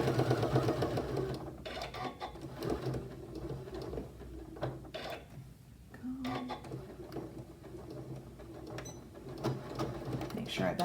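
A home sewing machine stitches short angled seams in the corners of an embroidered fabric tray, its motor whirring in steady bursts that start, pause and resume, up close and loud.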